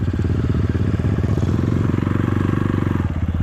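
KAYO TSD 110 enduro motorcycle on a cross training ride, the small engine running loud and close with a steady rapid rattling pulse that rises slightly as the throttle opens.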